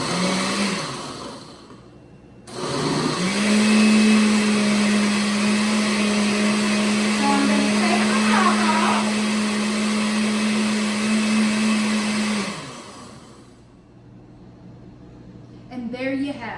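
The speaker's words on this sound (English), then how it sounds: "this is what they call a pulse. On the blender, it's for ice crushing." A kitchen blender runs a long steady pulse to crush ice for watermelon slush, a loud whirring hum that starts after a brief burst, holds for about ten seconds, then stops, with people talking around it.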